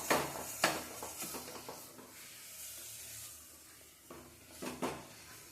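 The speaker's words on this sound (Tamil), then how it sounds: "நல்லா எண்ணெயிலேயே ஒரு 2 நிமிஷம் வதக்கி விட்டுடலாம்." Chicken being sautéed in oil in a pan, a soft hiss with a few brief scraping and clattering stirs at the start and end, quiet and close, no talking.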